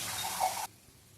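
Water poured into a pan of cooking okra for a Rayalaseema-style sour okra dish, a brief splashing gush that stops abruptly, leaving quiet behind.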